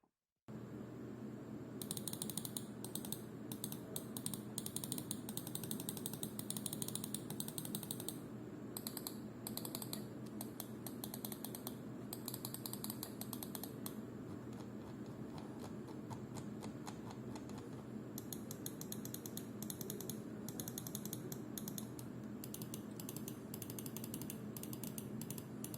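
Button clicks from an Ajazz i309 Pro wireless gaming mouse, a long run of rapid, crisp clicks repeating steadily, close and clear over a faint background hum, with no talking.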